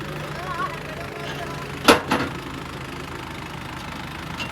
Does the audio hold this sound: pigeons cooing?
no